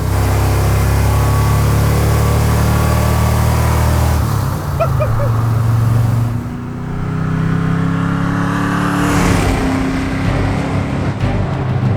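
The hero truck from the Fast and Furious 4 gas tanker heist scene drives with a loud, steady low engine drone that dips briefly during a gear shift, then climbs again as it accelerates, close inside the cab.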